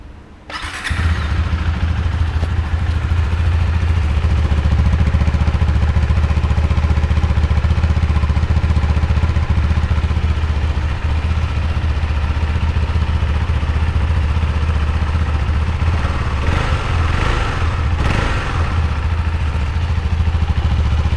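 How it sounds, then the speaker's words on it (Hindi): A KTM 390 Adventure X motorcycle engine starts up loud and close, then idles steadily with a low, throbbing rumble for a long stretch. "Okay, now let's start the bike."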